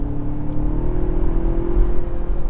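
A 2021 Ford Ranger Tremor 4x4 engine hums steadily with a rising rev, the drone building smoothly as the truck accelerates, close and fairly loud with no talk.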